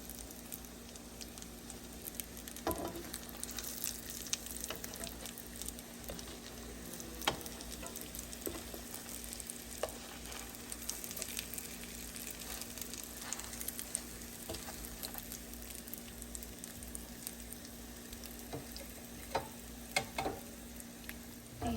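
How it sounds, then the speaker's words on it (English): Sauerkraut and mushroom croquettes fry quietly in oil, a faint continuous sizzle with occasional pops and tong taps scattered across a long stretch without speech. "Just fry these on all sides."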